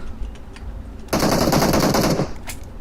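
An M4 assault rifle fires one rapid automatic burst of about a second in the PUBG Mobile battle royale game, loud and close after quieter background game sounds.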